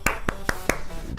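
Four sharp hand claps spaced evenly about a fifth of a second apart, followed by a fainter fifth one, loud and close.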